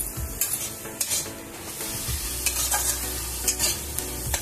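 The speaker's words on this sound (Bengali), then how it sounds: "একটু ভাজা ভাজা করবো" Bathua greens stir-fried in a pan over high gas, a close sizzle broken by repeated scraping and clanking strokes of a spatula against the metal, irregular but steady, with no talking.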